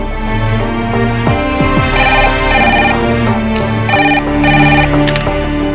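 A telephone rings in a repeating electronic tone pattern, loud and close, with several short bursts of the ringtone in a row.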